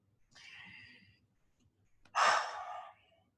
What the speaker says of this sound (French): Petite respiration